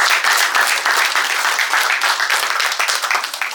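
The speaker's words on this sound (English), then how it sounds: "Can we give another round of applause for Phil?" An audience applauds for Phil at a presentation, a steady dense round of clapping filling the room.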